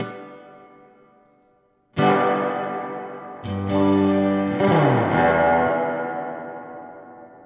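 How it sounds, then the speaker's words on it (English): Electric guitar chords ring out through a Silktone amp's tube-driven spring reverb, splashy, each strum leaving a long, shimmering tail that slowly decays. "It's a tube-driven spring reverb."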